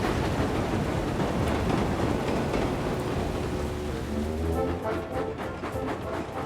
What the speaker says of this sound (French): Cela fait plusieurs jours qu'il pleut sans discontinuer sur Chicalor.